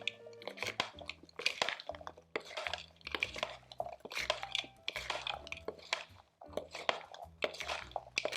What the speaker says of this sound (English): Just stir to coat it all.